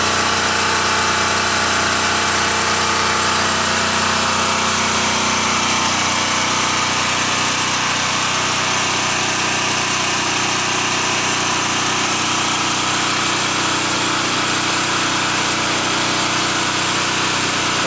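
A small engine fed with gas from a simple fire charcoal gasifier runs steadily, a dense continuous mechanical drone with a bright high whine and no pauses, close and fairly loud with no talking.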